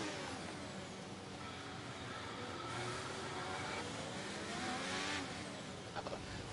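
Race car engine in a racing video game, a continuous loud roar with shifting pitch as the car accelerates, steady throughout, with no talking.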